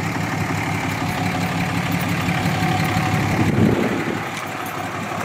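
A lifted 2007 Dodge Ram 2500HD with a Cummins turbo diesel engine idles with a steady low rumble and a slight swell partway through; no talking.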